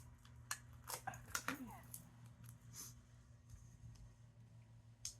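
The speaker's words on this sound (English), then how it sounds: "I'm cutting it on here so that it's not as sticky on my scissors" A few sharp snips and crisp clicks of scissors cutting sticky paper against a backing, close by, with soft rustling and a low steady hum underneath; no talking.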